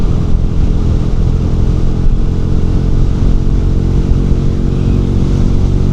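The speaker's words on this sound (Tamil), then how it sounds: "இப்போ இந்த ஸ்போர்ட் மோடில் பார்த்தீங்கன்னா வண்டி இப்போ ஒரு த்ராட்டில் கொடுப்போம், எப்படி பர்ஃபார்ம் பண்ணுதுன்னு பார்ப்போம்" A Bajaj Pulsar N160 motorcycle engine runs in sport mode, a steady, loud, close mechanical drone with a dense low rumble and clatter that holds throughout, with no talking.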